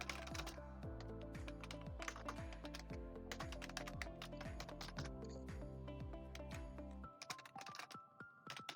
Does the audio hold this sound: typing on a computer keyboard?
yes